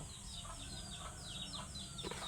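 Faint clucking from a chicken, a few soft repeated calls heard at a distance over steady background noise.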